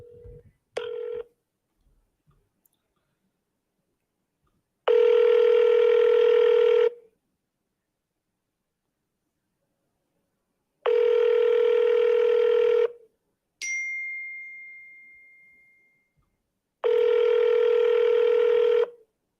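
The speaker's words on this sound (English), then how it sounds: "I'm gonna double dial him again." A desk telephone redials a number with a rapid string of keypad tones, followed by three long, loud ringback tones spaced evenly apart, with a brief falling electronic tone between the last two. Nobody answers.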